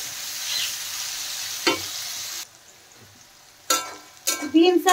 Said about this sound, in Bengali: বিন আর ক্যাপসিকাম আমি একসাথে ভেজে নিচ্ছি।